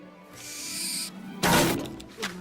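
An owl in the Hogwarts Legacy video game hoots and screeches in a few short calls, a breathy, hissing screech followed by a louder rasping call and a brief final note, fairly close and clear with no talk.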